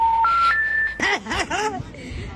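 Three quick telephone keypad tones rising in pitch, followed by a short voiced murmur.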